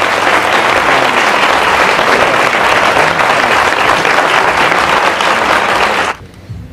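A crowd at a town festival proclamation in Alcorcón applauds loudly and continuously for about six seconds, then the clapping cuts off abruptly into near-quiet.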